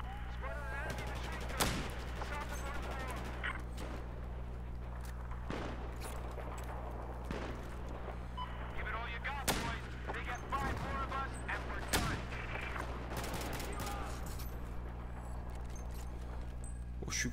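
Rapid gunfire bursts and single shots from the video game Battlefield 4, crackling in irregular clusters over a steady low hum, fairly loud throughout with occasional voice underneath.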